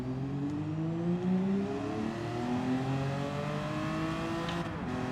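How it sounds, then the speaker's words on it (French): Car engine in Gran Turismo 7 accelerating steadily in second gear, the pitch rising smoothly over several seconds before a brief drop near the end, loud and continuous with no voices. "on accélère en vitesse 2"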